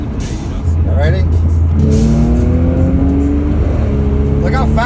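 A tuned stage 1 Audi S5 revving hard as it accelerates, engine pitch climbing, dropping on quick gear shifts, then rising again, loud and close, with people talking over it.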